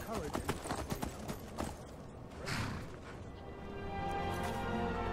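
Horse hooves clip-clop in the video game Skyrim, a brisk cluster of close hoof beats at first, then fading into a steady game ambience, with a voice talking over it.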